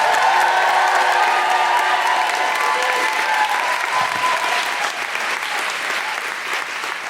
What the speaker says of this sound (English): Please start clapping, cheering, and welcome to the stage your wonderful host